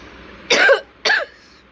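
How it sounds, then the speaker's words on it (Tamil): Two short harsh coughs from a person close by, about half a second apart, with quiet between them. "எனக்கு என்ன கொஞ்சம் இருமல்"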